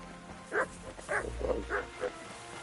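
A dog in the Kingdom Come Deliverance 2 video game barks several times in short, evenly spaced yelps, fairly faint, with low background rumble.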